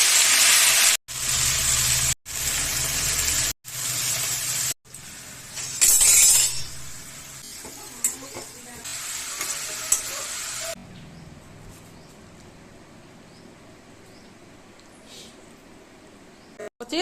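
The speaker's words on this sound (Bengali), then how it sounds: "শাকটা ভাজা বসালাম" Greens (saag) fry in a pan in a home kitchen: loud, dense hissing sizzle in bursts broken by short gaps, then settling to a quieter steady crackle with faint clinks.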